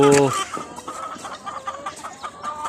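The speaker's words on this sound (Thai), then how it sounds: "โรงเรือนไก่ไข่นะครับ" Several laying hens cluck and murmur in a busy henhouse, with steady clucking throughout and a brief voice or louder call at the start.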